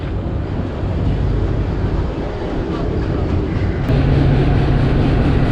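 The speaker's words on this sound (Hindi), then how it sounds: "ये जी गोल्डा रेलवे स्टेशन से ट्रेन हमारी निकल रही है।" The Thall Express 130DN passenger train pulls out of Golra railway station, heard from on board as a loud, steady rumble mixed with wind buffeting that swells slightly louder near the end.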